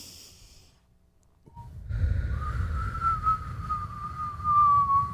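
A person breathes in, pauses, then exhales slowly through the mouth, making a thin, wavering whistle over soft breath noise that lasts several seconds, close and fairly quiet.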